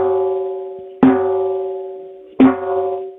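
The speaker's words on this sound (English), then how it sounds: "If I normally play the tom, it sounds like this." Two conga drum strikes with an ordinary open stroke, each a sharp attack followed by a ringing, slowly decaying tone, about a second and a half apart, close and clear with no talking.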